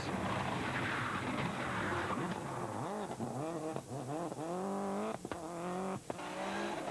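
A rally car at the 2003 NEMC Rallysprint at Punchestown roars up through the gears on mixed tarmac and gravel, with rising engine sweeps and sharp gear-change breaks, loud and close.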